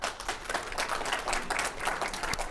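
Audience clapping at a conference talk on generative AI for service organizations, a dense, steady patter of many hands filling the hall at moderate level without pause.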